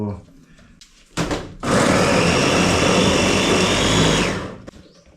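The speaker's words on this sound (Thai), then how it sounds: "เมื่อหั่นมาแล้วก็ลงเครื่องปั่นได้เลยครับ" An electric blender purees about one kilogram of chopped noni fruit. After a couple of short clunks, it starts into a loud, steady whirring grind that holds for a few seconds and then winds down.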